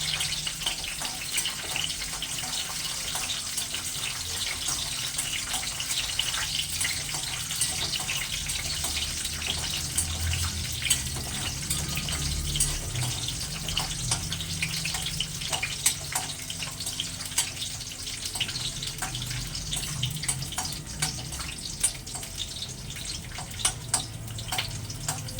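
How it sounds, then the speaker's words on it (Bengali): Cashew nuts frying in hot oil for chicken biryani, giving a steady, dense sizzle with fine crackling that holds at an even level throughout, no voices over it. "কাজুটা আগে ভেজে নেব, তারপরে কিশমিশটা দেব।"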